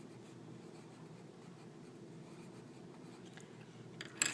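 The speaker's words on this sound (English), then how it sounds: "we're going to take our green crayon to match the multiply and divide, and we're going to write multiply" Green crayon rubbing over a worksheet as words are written, a faint steady scratchy texture up close, ending in a slightly louder stroke.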